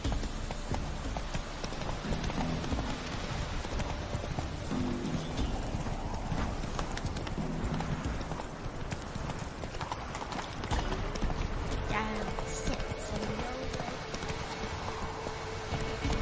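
Roach, Geralt's horse in The Witcher 3: Wild Hunt, galloping with a steady rhythmic clatter of hooves over ambient game sound, close and continuous for the whole stretch, with a brief whinny mixed in.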